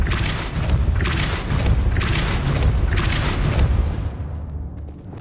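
A Depulso spell cast in Hogwarts Legacy lands as a heavy, rumbling blast with layered booming bursts that swell and then fade out.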